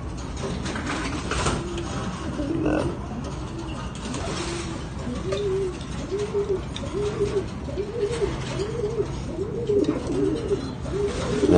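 Pigeons cooing after a release, soft repeated coos in a steady rhythm at moderate distance over a constant background hiss.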